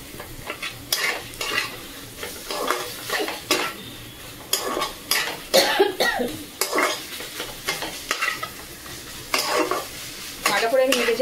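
Taro greens with prawns and bay leaves are stirred in a sizzling pan, a spoon scraping and clattering against the metal in quick irregular bursts over a constant frying hiss, close and fairly loud.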